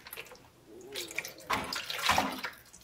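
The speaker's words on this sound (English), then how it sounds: "And we'll just take the distilled water and just pour it over the mirror." Distilled water poured over a telescope mirror set at an angle, a soft trickling splash that swells in two brief bursts, close and fairly quiet with no talk.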